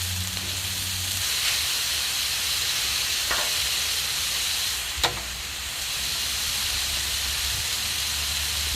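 Burgers cooking on a grill, a steady close sizzle and hiss lasting throughout, with a faint tick or two and no talk.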